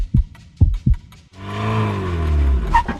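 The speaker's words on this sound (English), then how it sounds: "Ooh, a car just pulled up." A car pulls up with a rising, then settling engine hum that follows three deep thumps like a heartbeat, heard fairly close and alone.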